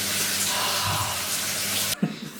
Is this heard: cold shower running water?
yes